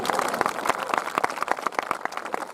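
Audience applause at a Hindi kavi sammelan poetry recital, a dense run of hand claps from the crowd, fairly loud and steady for a couple of seconds with no one talking.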